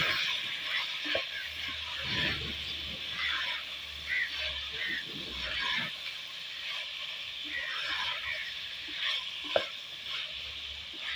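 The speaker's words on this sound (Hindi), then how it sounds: "अब आलू को भी ना थोड़ा सा फ्राई करेंगे" Potatoes fry in a pan for aloo mattar keema, a quiet steady sizzle with intermittent stirring scrapes and a few utensil knocks, fairly faint and without speech.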